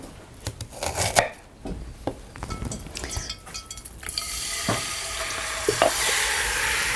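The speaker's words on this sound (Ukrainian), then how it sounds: "Цибульку можемо різати півкільцями." An onion is cut into half-rings with a series of close, sharp knife strikes on a board, followed by a steady sizzle from a nearby frying pan.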